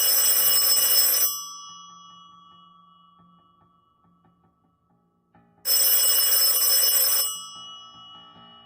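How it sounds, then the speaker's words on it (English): An old, completely disconnected telephone at Mile 386 in Alaska rings in two loud bell bursts, each over a second long, with a faint ringing tail and near silence between them. "an old phone, completely disconnected, would ring"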